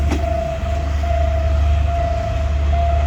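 A BSN.6 locomotive hauls a track inspection car as special train 1143 past the Kasem Bundit arch near Hua Mak station. It makes a steady, close rumble with a constant mechanical hum.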